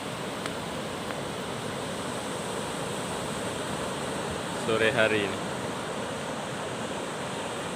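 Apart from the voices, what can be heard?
waves on the beach at Maudil, Simeulue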